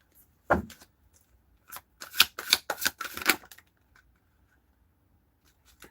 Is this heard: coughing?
no